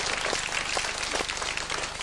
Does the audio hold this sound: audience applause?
yes